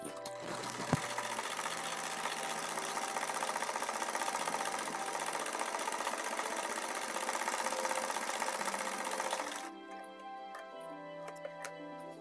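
A sewing machine stitches a seam on a ladies' suit, running with a fast, even mechanical ticking hum for about nine seconds before stopping, leaving quieter clicks and handling noises.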